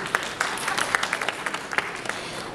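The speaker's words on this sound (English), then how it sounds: "You can clap." An audience at a China trade week event in Nairobi, Kenya, claps steadily for a couple of seconds; moderate, slightly distant applause with individual claps audible, no voices over it.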